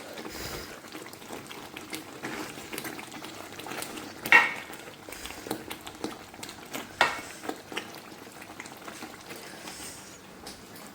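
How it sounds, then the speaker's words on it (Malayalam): A thick mixture bubbles and pops in a pan, with occasional sharp spatters and stirring scrapes, steady and close. "ഇപ്പോൾ തന്നെ നല്ല രീതിക്ക് പൊട്ടിത്തെറിക്കുന്നുണ്ട് എനിക്ക് ഇളക്കാൻ പറ്റുന്നില്ല"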